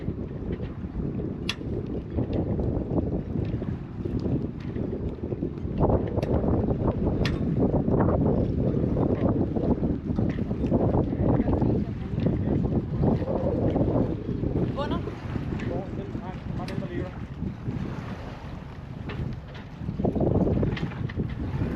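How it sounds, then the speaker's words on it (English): Sailboat turning up into the wind after the jib is pulled in, with strong wind buffeting the microphone and water rushing against the hull, steady and loud throughout with a brief lull near the end. "I quickly pull in the jib and then we start turning up into the wind."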